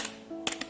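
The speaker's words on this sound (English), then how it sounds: "It's a ordinary keyboard, not a mechanical keyboard, soft touch" Keys on an ordinary soft-touch Compal keyboard, non-mechanical, are tapped a few times, brief muted clicks close up over a faint steady hum.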